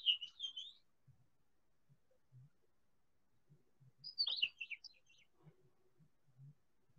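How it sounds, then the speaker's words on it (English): A house finch sings two quick, high warbled phrases several seconds apart, fairly faint, over soft low background knocks. "now this is a house finch."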